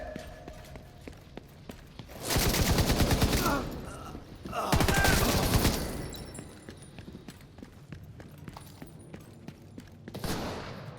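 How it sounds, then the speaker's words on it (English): Bursts of automatic rifle fire in Tom Clancy's The Division 2, with two long loud volleys and a shorter one later, plus scattered shots and footsteps in the background. "Firing on targets."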